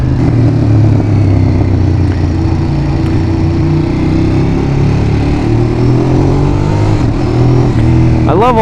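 A Ducati Monster 821 motorcycle engine runs steadily with a loud, continuous exhaust drone, shifting pitch slightly as it rides, and a brief rise near the end; distinct crackles and bangs are not clearly separable.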